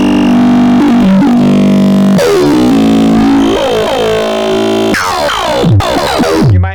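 A synthesizer vowel growl shaped by the Filterverse resonant filter plays loud and alone, with sweeping, talking formant tones that shift and snarl in several distinct phrases.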